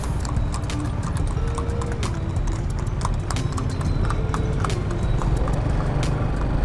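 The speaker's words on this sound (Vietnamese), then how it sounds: "Xe ngựa chạy quá trời luôn quý vị." Hooves of horse-drawn carriages clip-clop on a sloping street in Da Lat, Vietnam, as a rapid, steady train of sharp knocks heard fairly close, over a low rumble of passing traffic.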